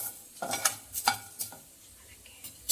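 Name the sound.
dry-roasting pepper, chillies and poppy seeds in a pan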